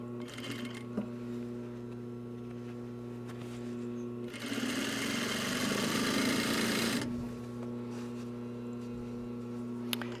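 A treadle sewing machine stitching a shoulder bag, running in one steady burst of about two and a half seconds over a constant low mains-like hum, with no talk.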